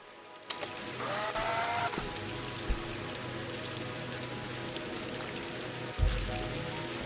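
Rain falls in the video game Viewfinder, a continuous hiss of drops on surfaces at moderate level, with a few brief sharp knocks and a short tonal chime early on.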